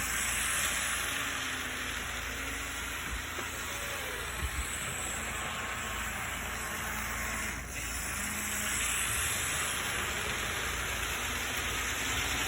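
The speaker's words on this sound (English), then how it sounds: "This is the 25-tonner at full power." A Possum Valley Models 25-ton Plymouth switcher, a TT scale model locomotive, runs at full power on a home layout, giving a steady, even hissing whir with thin high-pitched whines and no talk.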